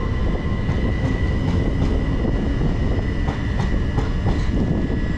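Southern service train pulling out of Brixton station toward East Croydon via Norbury, a steady close rumble of wheels with regular clickety-clack joints and a faint squealing hum running over it, no voices.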